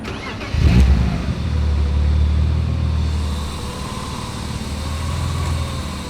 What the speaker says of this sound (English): This was just revving up to like 2K and then checking the level